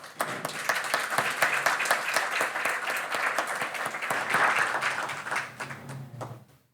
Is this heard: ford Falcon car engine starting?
no